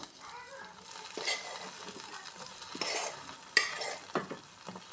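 Dry fruits are stirred into a pot of semiya sabudana kheer, giving quiet, steady scraping and swishing with a few soft clinks of the spoon against the pot.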